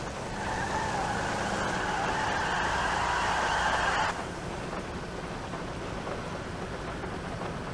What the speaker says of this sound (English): Of course, it's also raining out now.